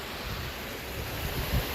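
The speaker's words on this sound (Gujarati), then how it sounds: "જો આ પાણી એમને જઈ રહ્યું છે" Water pours through a breach in a check dam on the Machchhu river, producing a steady, broadband rushing wash at moderate level, with a few low rumbling bumps near the end and no talk.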